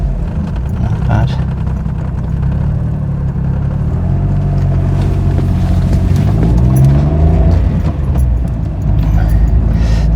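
A car drives with a steady engine drone that rises and shifts in pitch as it accelerates, in the Gran Turismo video game, while a voice talks over it.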